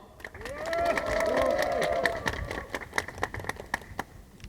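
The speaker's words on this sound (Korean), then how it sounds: "기자회견 여는 말씀을 이호찬 위원장님 모시고 청해 듣겠습니다. 힘찬 박수 부탁드립니다" A crowd at an outdoor union strike press conference claps and cheers, building into steady applause that thins to scattered claps, with some voices and noise mixed in.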